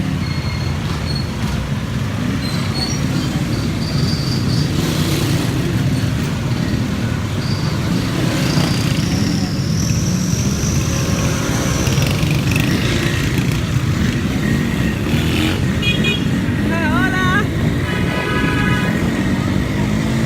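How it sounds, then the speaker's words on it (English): Morning commute traffic on a Dominican Republic street: a steady, dense roar of motorcycle and car engines passing nearby, with a few brief horn-like tones toward the end. "remember I told you motors are noisy? Look at this traffic."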